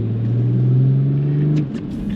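BMW E92 330d diesel pulling in third gear at around 2,000 rpm, a steady low engine rumble from inside the car that eases off near the end.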